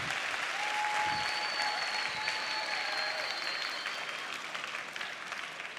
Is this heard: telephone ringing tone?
no